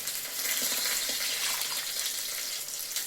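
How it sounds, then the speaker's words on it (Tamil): A steady splashing pour of water from a jar into a pot of fish curry, close and continuous for several seconds with no talking. "இந்த ஜாரில் கொஞ்சம் தண்ணி இருக்குது, அதையும் எடுத்து ஊற்றிக்கிறேன்"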